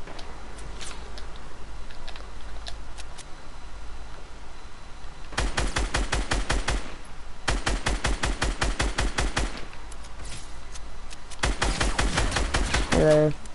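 Rapid bursts of automatic gunfire from a video game, two long rattling volleys of evenly spaced shots over a steady background hum, loud and close, with a brief quieter stretch between them.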